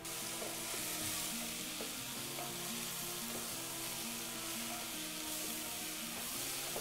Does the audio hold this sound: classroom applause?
no